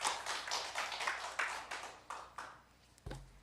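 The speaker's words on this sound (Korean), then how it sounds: "하나님께 영광의 박수 돌리겠습니다" Congregation in a church giving a round of applause, many hands clapping in steady rhythmic bursts that fade toward the end, followed by a low thump.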